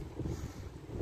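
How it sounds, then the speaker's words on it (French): Wind buffets the microphone outdoors at a derelict former slaughterhouse in bad weather, a steady low rumbling roar with no voices. "désolé pour le vent"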